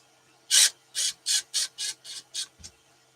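A DeWalt drill driving screws in a short run of seven bursts, close and fairly loud, with brief pauses between each spin and a small thump at the end.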